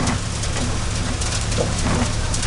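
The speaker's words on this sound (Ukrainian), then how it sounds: "Почалася гроза з градом" A thunderstorm with hail and heavy rain on a city street, with a steady loud wash of falling rain and pattering drops throughout.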